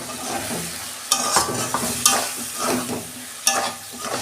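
Spice paste is stirred into fried vegetables in a sizzling pan: irregular scraping strokes and sharp clanks of a spoon against metal over a continuous close frying crackle, no voices.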